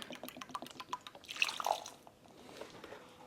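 Distilled water poured onto a half cup of garden soil, a soft, quiet run of drips and trickling splashes with a brief louder wet gush midway, close and with no talk.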